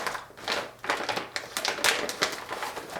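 A knife slicing and sawing open the sealed plastic pouch of a 2019 Chilean Daff civilian Redline MRE, Menu 1 pasta with pomodoro sauce; close, scratchy crinkling and tapping rasps in uneven bursts, without speech.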